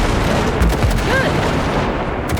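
Gunfire blasting floating wrecks in Cyberpunk 2077, a loud continuous barrage of shots and booms with dense rumbling low end throughout, no talk.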